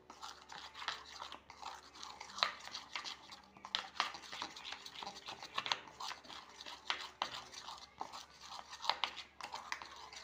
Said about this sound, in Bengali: আর ভালো করে ফেটিয়ে নিতে হবে, যাতে বড়াটা স্পঞ্জি হয়